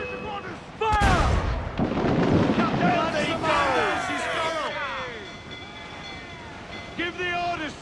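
Ship cannon fire during a naval battle in Assassin's Creed IV: Black Flag, a heavy booming blast followed by a rumbling roar with shouting crew voices over it.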